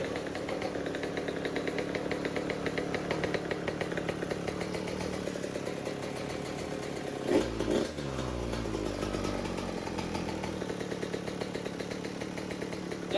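A rebuilt 2020 Yamaha YZ125 GYTR two-stroke dirt bike engine runs close by with a buzzy, raspy, chainsaw-like drone, with one sharp throttle blip near the end before returning to a steady idle, and no voices.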